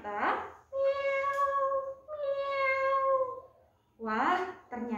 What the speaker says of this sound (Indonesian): wah, ternyata itu seekor kucing.